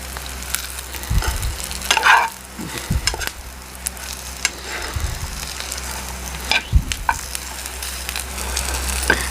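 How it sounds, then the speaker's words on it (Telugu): Egg 65 pieces sizzling and frying in a pan until red, with steady hissing oil and several scraping stirs of a spoon, close and fairly loud. "అంత బాగా ఎర్రగా వేగేంత వరకు కొద్దిగా మాడినట్లుంటే అది సిమ్లో పెట్టుకోండి"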